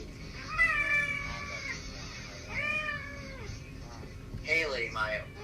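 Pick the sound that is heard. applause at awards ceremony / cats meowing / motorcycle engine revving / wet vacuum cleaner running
cats meowing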